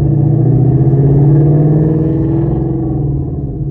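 A 2020 Ford Mustang GT500, stick-shift swapped with its supercharged motor, rumbling through side exit exhaust, a loud steady low drone with a slight rise in pitch, then easing off toward the end.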